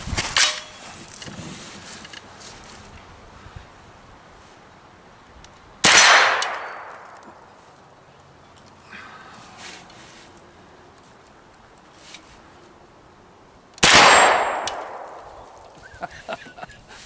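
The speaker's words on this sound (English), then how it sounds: "I'm going to put them right on those steel targets that we just sighted in at 35, 38 yards away." Gunshots ring off steel targets at an outdoor range about 35 to 38 yards out: three loud, sharp reports, each followed by a bright metallic clang that decays slowly, spaced several seconds apart, with faint small clicks in between.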